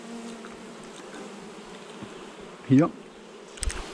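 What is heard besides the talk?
honeybees buzzing around a frame during a beehive swarm inspection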